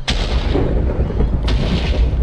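Two loud booming explosions in the video game Minecraft, one at the start and another about a second and a half later, each with a rumbling tail, and no talk over them.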